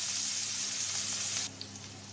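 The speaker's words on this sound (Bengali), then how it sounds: "এই তেলে পেঁয়াজ কুচি দিয়ে দেবো। পেঁয়াজ কুচিটা একটু ভেজে নেব," Chopped onion fries in hot oil in a pan, a steady, close hiss of sizzling that drops abruptly to a quieter simmer with a small tap near the end.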